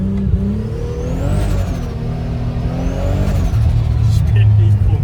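A 1300 hp Nissan Patrol engine accelerates hard with wheels spinning, rising and falling in loud, close revving sweeps over a deep rumble, with people talking throughout.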